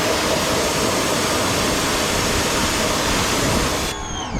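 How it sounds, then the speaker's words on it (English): A pressure washer with a 45-degree fan tip sprays a motorcycle in a continuous loud hiss of rushing water that stays close and unbroken, then cuts off near the end. "I feel pretty comfortable rinsing this thing off with just the pressure washer."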